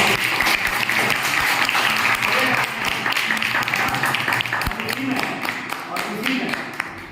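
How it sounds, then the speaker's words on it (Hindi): Sustained applause from a seminar audience on personal success, dense steady clapping filling the room throughout, with a few sharp louder claps and faint voices underneath. "एक बार जबरदस्त तालियां होनी चाहिए"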